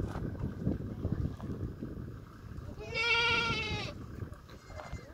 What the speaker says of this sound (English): Goat portrait photography.